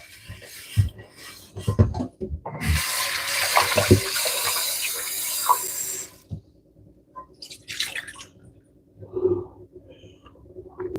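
Tap water runs into a sink as something is rinsed under it, a steady splashing stream lasting a few seconds, with clattering handling noises around it, then quieter drips and knocks.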